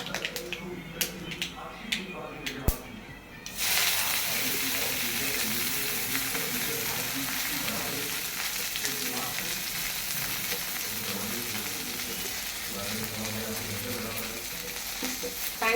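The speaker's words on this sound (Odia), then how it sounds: "ଶାଗ ଭଜା ହେଉଛି, ବୋଉ ଶାଗ ଭଜା।" Saag, leafy greens, fries in a pan in a home kitchen. After a few sharp clicks, a loud, continuous sizzle takes over, with voices chatting faintly underneath.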